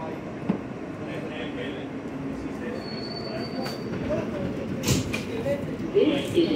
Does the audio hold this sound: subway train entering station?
yes